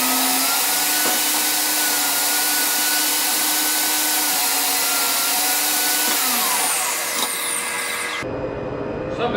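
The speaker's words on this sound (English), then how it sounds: "I'm going to start cutting on the saw." A power saw runs steadily and loud, cutting wood pieces for a kitchen cabinet build, with a continuous whine that cuts off sharply near the end.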